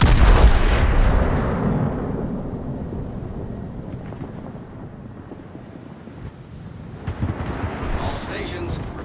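Heavy naval gun salvos from the Italian battleship Cristoforo Colombo in World of Warships, a loud opening boom that rolls away into low rumbling and wind-like roar, with further thuds later and a voice speaking over it.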